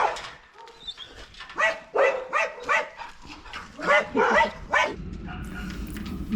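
Dutch shepherd dogs bark in a string of sharp, close yips and barks, about eight bursts in quick irregular succession, followed by softer rustling.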